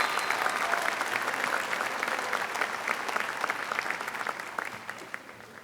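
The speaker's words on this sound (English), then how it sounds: "let us give another round of applause for all the mothers, fathers, aunts, uncles, grandparents, guardians" Warm, sustained applause rolls through the audience at a 2019 Lakeview High School graduation ceremony in St. Clair Shores, honoring the graduates' families, dense clapping that gradually thins out toward the end.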